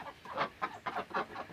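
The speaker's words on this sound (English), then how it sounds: "these are my ducks" Backyard ducks, including a white Pekin duck, give a rapid series of five or six nasal quacks close by, each burst short and evenly spaced with brief gaps between.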